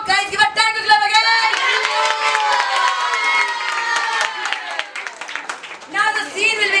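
Students in a classroom clap and cheer loudly, with children's shouts and whoops riding over scattered clapping, the voices rising and falling in excited bursts.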